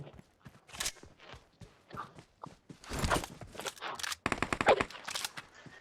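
Video game gunfire comes from a building as a short burst of rapid automatic shots, mixed with footsteps and excited voices talking over the gameplay.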